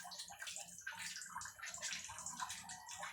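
Water running and sloshing outdoors on a rainy mountainside, a soft, continuous gurgling flow heard quietly and alone.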